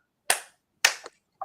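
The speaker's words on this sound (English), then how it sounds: "2 claps to that." Two sharp hand claps ring out alone in silence, the second followed by a quick small echo-like tap, then a short faint muffled sound.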